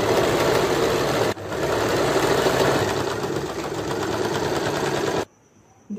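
A sewing machine runs steadily, stitching lace onto a long frilled shrug, its dense mechanical whirr loud and continuous for about five seconds with one brief pause, then stopping abruptly.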